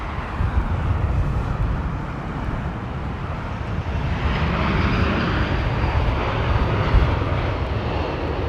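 A Boeing 777 airliner climbs away from London Heathrow, its engines a loud, steady broadband roar that holds without a break and swells slightly toward the end, heard from a distance.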